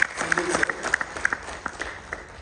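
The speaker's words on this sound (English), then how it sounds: "Let's give a huge round of applause to Sindhil sir." Audience applause for a guest at a Telugu film event, a short burst of clapping with a few sharper claps standing out and crowd noise mixed in.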